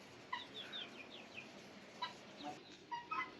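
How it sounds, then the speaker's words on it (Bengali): Egyptian Fayoumi chickens cluck softly in short, scattered calls at a moderate distance over a steady farmyard hiss. "এটাও মিশরি, এটা লাল প্রজাতির মুরগি।"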